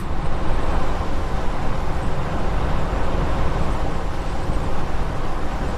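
A Holden HK car accelerating on the road, its engine and road noise forming a loud, steady broadband roar heard from inside the cabin, with no talk.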